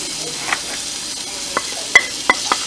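Shallots frying in a pot of Guyanese hassar curry, a soft steady sizzle with a few sharp clinks of a spoon against the pot toward the end.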